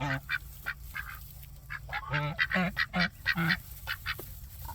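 Pinioned geese honk and quack close by in a rapid, irregular burst of loud nasal calls, with scattered quieter honks before and after.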